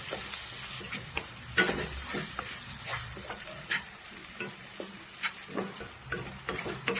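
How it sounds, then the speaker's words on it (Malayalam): Onion, tomatoes and crushed ginger-garlic with salt frying in a pan, stirred with repeated sharp scrapes and clinks over a continuous sizzle, close and fairly busy, nobody talking. "ഇനി ഇതെല്ലാം കൂടെ ചേർത്ത് നന്നായിട്ടൊന്ന് ഇളക്കാം"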